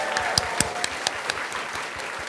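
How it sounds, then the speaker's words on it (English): Live studio audience applauding at a recorded show event, a fairly faint, scattered round of claps with individual hand strikes standing out over a soft wash of clapping. "And now you're going to applaud real loud again."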